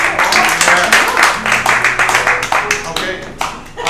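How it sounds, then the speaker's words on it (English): An improv theater audience applauds an actor, a crowd of hands clapping in a loud, dense burst that gradually thins out, with a voice speaking over it. "Let's applaud him for that."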